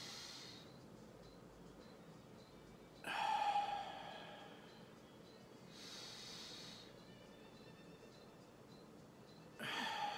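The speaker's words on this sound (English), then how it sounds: "We're just gonna take a nice deep breath now." Slow deep breaths are taken during a quiet card-reading prayer session: three soft, close inhale-exhale sounds spaced a few seconds apart against near silence.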